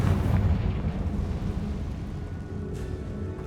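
Confringo fire spell cast in Hogwarts Legacy, a loud low rumbling blast that rolls on for a few seconds and slowly fades, with no voices over it.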